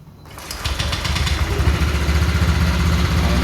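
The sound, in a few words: Honda Vario scooter engine starting cold and idling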